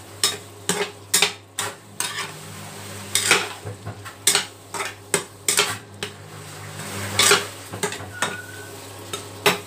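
A metal utensil clacks and scrapes repeatedly against a pan while squid with black beans and a splash of soy sauce is stirred, sharp close hits in an irregular rhythm over a steady low hum.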